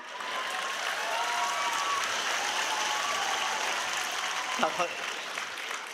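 Audience applause at a Vietnamese overseas comedy stage show, a steady wash of clapping lasting several seconds, with a voice exclaiming over it.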